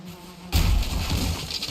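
Bees in Valheim, a sudden close insect buzz that starts abruptly after a moment of quiet and keeps droning loudly, wavering slightly in pitch.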